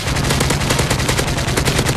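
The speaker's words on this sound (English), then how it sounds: "I'm gonna take that thing down with a pistol" Sustained rapid gunfire in a first-person shooter game, a dense, loud, evenly pulsing stream of shots filling the whole two seconds with no pauses.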